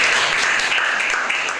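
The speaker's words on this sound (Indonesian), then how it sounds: "kita beri tepuk tangan" An audience at a talk on strengthening love of country and preventing radicalism claps together for a speaker, a dense, even burst of applause held steady throughout.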